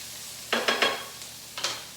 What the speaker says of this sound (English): Celery's still cooking a little bit.